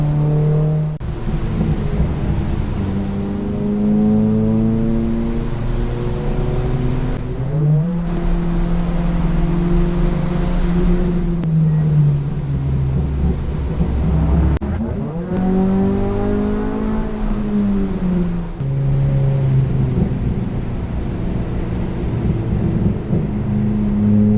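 Race car engine running hard through a Lemons endurance race at Ridge Motorsports Park, droning loudly and steadily with rising and falling pitch through gear changes and a few brief lifts off the throttle, chasing a Subaru ahead.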